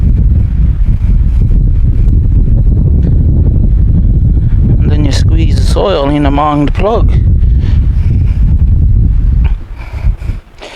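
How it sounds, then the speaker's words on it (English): Outdoor wind buffets the microphone in a steady low rumble while someone talks about transplanting onion seedlings from a 200-cell flat, with a brief whistling tone midway and the gusts easing near the end. "You can hear the wind in the background."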